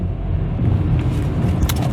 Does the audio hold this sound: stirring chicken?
no